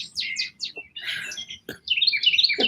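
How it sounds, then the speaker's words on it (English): Birds chirp outdoors in quick, bright bursts of tweets and trills, close and clear with no talking. "The birds are like cheering us on."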